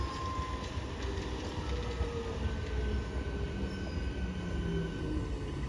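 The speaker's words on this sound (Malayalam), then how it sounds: "ഇപ്പോൾ ഒരു കൊല്ലം എറണാകുളം ഒരു മെമു വരുന്നുണ്ട്" A Kollam–Ernakulam MEMU train arrives at a station on Munroe Island in Kerala, a steady low rumble of wheels and carriages rolling on the rails, moderately distant and continuous, with no voices over it.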